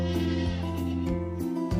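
Dairy goats bleating on a goat farm with 1800 milking goats, several loud, drawn-out calls overlapping close by, with no talk.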